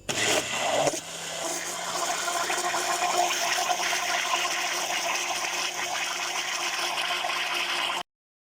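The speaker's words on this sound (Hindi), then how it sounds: "तो अब ग्राइंडर चला देते हैं।" A mixer grinder blends a gelatin mixture, giving a loud continuous whirring roar that starts after a brief jolt and runs evenly for several seconds before cutting off abruptly.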